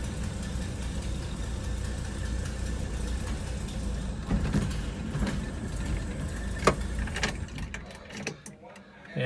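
A 1964 Chevy Nova engine running in a shop, a low steady idle with faint knocking, and people talking over it throughout.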